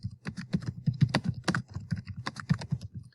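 A name typed on a computer keyboard, with rapid, steady clicking keystrokes close by for about three seconds, no talking.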